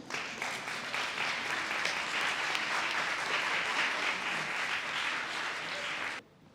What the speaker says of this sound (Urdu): آپ کی تالیوں کی گونج میں قائد ایوان محمد علی منصور